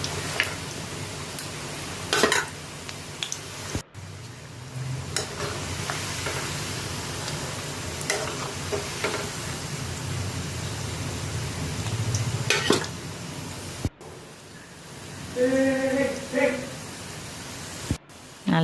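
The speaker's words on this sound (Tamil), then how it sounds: "அதை நல்லா கலரி விட்டுக்கினே இருங்க, இல்லைன்னா அடி பிடிச்சிடும், தீஞ்சிடும்." Bread pieces frying in hot oil for bread gulab jamun, stirred steadily, give a continuous low sizzle with scattered scraping clinks from the utensil, while someone talks over the cooking throughout.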